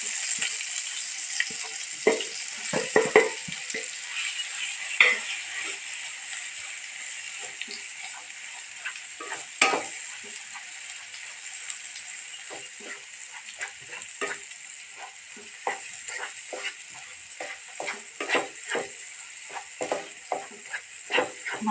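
Ground masala paste frying with eggplant in a pan, a steady close sizzle with scattered sharp spatter crackles and occasional scraping stirs throughout.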